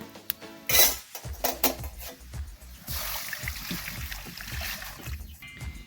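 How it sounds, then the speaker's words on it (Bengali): Water poured into a metal kadai on a kitchen stove: a sharp clank of metal, then a steady splashing, hissing pour lasting several seconds, close and fairly loud. "কড়াইয়ে জল দিয়ে দেবো।"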